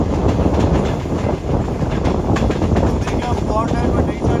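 The Shah Hussain Express rolls between Karachi and Lahore, heard from inside as a loud, steady roar of wheels and carriage rumble with faint rhythmic clatter and wind noise. There is no talk over it.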